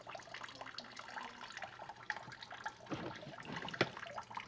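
The last small amount of water trickles and drips out of an inverted tote, a faint, uneven splashing and dribbling with occasional louder drops.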